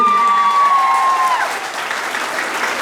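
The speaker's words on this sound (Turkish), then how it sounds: "Şöyle bütün masalardan kuvvetli bir alkış gelsin diyoruz." Wedding guests at a Turkmen-Turkish wedding ceremony break into steady applause from every table, a dense, continuous clapping that fills the hall, with a sustained tone ringing over the first half before fading.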